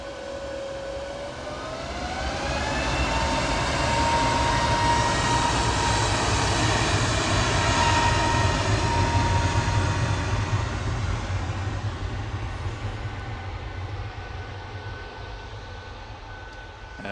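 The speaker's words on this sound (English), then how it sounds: "A321neo lined up on 23 left" An Airbus A321neo jet on the runway at Manchester Airport roars steadily, its whine rising as the engines spool up, then the broad rumble swells loud and slowly fades as it moves away.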